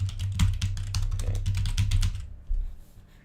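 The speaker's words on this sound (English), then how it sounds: "I use a wireless keyboard and sometimes it's just a pain." Fast, steady typing on a wireless computer keyboard, close and clear, with rapid irregular key clicks over a low hum for about three seconds before stopping.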